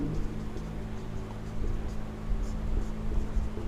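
Pen or pencil scratching across paper in a steady, close run of soft strokes while handwritten notes are taken, with no talking over it.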